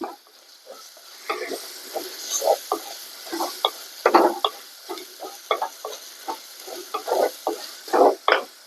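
Masala powder sautés with ginger and garlic in a pan for a crab curry, close stirring scrapes and spoon knocks repeating irregularly over a faint frying sizzle.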